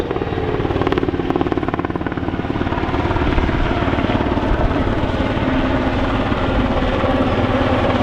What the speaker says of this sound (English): Now look at the size of that helicopter.